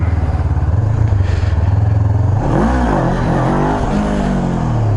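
A Honda CB500F motorcycle engine revs hard during a wheelie attempt, a loud close roar rising and falling in pitch through the clip, with no talking.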